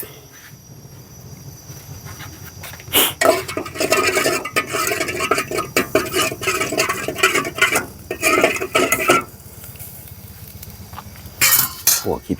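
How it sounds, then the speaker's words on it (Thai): Khi phia being dry-roasted in a pan while being stirred, with repeated scraping and clinking of a utensil against the pan in uneven bursts and quieter gaps between them. "เราจะคั่วขี้เพี้ยก่อนนะครับ"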